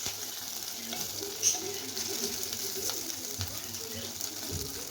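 Taki fish frying in a new pan, a soft, steady sizzle with occasional stirring scrapes up close, while pigeons coo faintly in the background and nobody talks.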